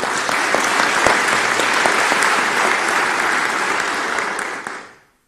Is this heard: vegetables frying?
no